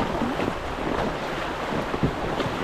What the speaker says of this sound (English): We're about to go down the white water rafting river